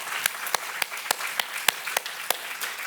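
Sparse, evenly spaced claps ring out during a Sunday church service in a Korean congregation, roughly ten sharp single hand claps over a faint hum, with no talk.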